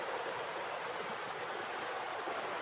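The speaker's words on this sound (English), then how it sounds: "the water and the current is so fast and so strong." A fast, swollen river rushes past a riverside campsite in Malaysia at night, a steady broadband roar of flowing water with no voices.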